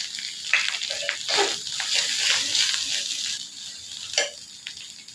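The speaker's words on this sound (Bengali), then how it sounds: "এখন আমি দেব গুঁড়া মশলা, হলুদের গুঁড়া, একটু ধনিয়া গুঁড়া," Ground turmeric and coriander sizzle in hot oil with well-fried onion paste, a steady bright crackle running throughout with a few sharper spits and stirring scrapes, close and fairly loud.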